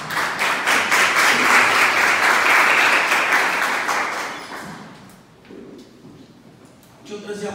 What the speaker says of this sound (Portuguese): Pode sentar e aplaudir o Senhor bem forte aí.